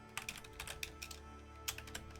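Quick typing on a computer keyboard heard close up, with irregular clusters of light key clicks over about two seconds and no talking.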